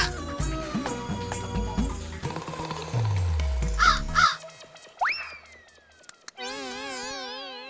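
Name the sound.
crows cawing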